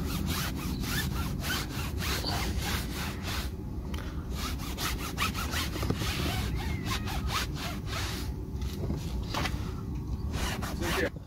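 An applicator block rubs tire dressing onto a tire in rapid back-and-forth scrubbing strokes, a close, rhythmic rasping that continues steadily throughout.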